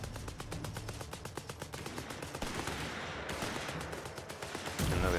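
Machine gun fire in Company of Heroes 3, a British MG firing against Jaeger infantry: long rapid, evenly spaced bursts of shots, moderately loud against background battle noise.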